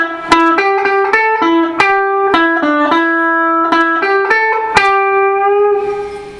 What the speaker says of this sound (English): So all together, this whole first part will sound like this.